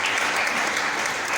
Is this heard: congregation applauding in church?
yes